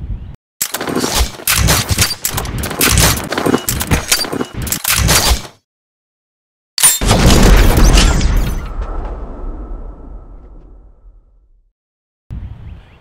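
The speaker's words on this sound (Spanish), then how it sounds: "como vieron al principio, estuve haciendo unos disparos" A rapid string of loud handgun shots fired at a shooting range, followed after a pause by one heavy boom with a long rolling echo that fades out.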